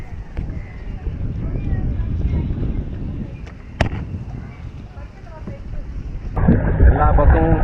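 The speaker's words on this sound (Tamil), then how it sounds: "எல்லா பக்கமும் ஸ்பீட் போட் போய்கிட்டு இருக்கு, சிக்காரா போட் போய்கிட்டு இருக்கு, குட்டி போட்லாம் போய்கிட்டு இருக்கு." Speedboats and small shikara boats run along the Kerala backwaters near Alleppey, giving a low engine hum and water wash under gusting wind noise, with a louder burst of motor sound near the end while a person talks.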